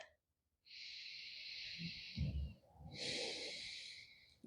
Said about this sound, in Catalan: Fem una respiració més.